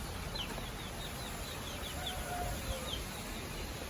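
Chickens are heard faintly at a household yard, with soft, sparse clucks and a few wing flaps over a steady background hiss.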